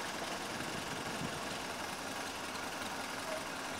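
A Ford Model A engine idles in neutral, a low, steady, even rumble that stays constant and fairly faint throughout with no talking.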